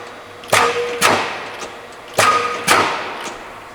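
A 35-ton Bliss O.B.I. punch press, model C-35, cycling in continuous mode, delivering heavy mechanical thuds in pairs with a faint ringing tone, loud and close over a low machine hum.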